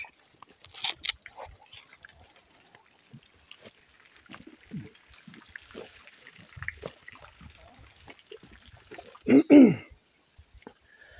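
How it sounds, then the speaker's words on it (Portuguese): Pigs on a small farm grunt and snuffle while eating bananas, with soft intermittent grunts and a louder squeal-like burst near the end, plus faint trickling water in a quiet outdoor setting. "E o porco, quanto mais comida tem, mais ele quer comer."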